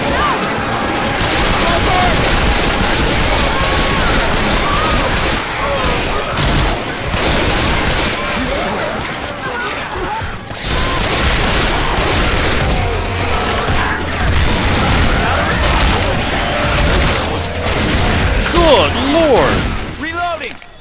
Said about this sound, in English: They have to actually start shooting them now.